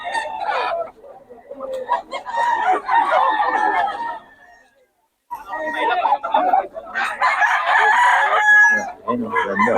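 Roosters crow and hens cluck loudly nearby at a chicken sale, a noisy chorus of fowl broken by a brief pause, with people talking underneath.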